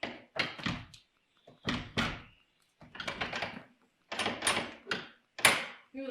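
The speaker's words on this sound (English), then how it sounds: "Ooh, the front door is locked." Locked front door of a historic 1820s house being tried: a series of close thunks and rattling knocks in irregular clusters as the handle is pulled and pushed, with no talk.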